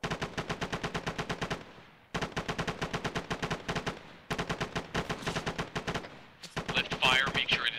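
Sustained automatic gunfire in a military video game, fired right over a teammate's head: steady rapid bursts of shots in three long strings with short gaps, loud and close, with faint radio-style voices in the background.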